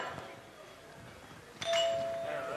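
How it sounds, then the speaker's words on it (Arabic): A doorbell chimes once in a home during a comedy stage play, a bright ding ringing out clearly after a stretch of quiet room noise and faint talk. "ايوه افتحي الجرس"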